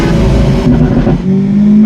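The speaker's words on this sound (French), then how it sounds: "La sonorité de cet échappement" A Lamborghini Centenario's exhaust roars loud and close as the engine revs, with a deep, steady growl and a pitch that shifts as the throttle changes.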